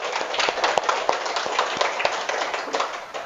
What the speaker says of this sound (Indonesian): Sekarang kita tepuk tangan dulu